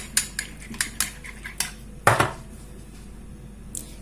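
A spoon clinks against a bowl while mixing garlic and herb cream cheese with mayonnaise, several sharp close taps and scrapes spaced through the moment, one louder knock near the middle.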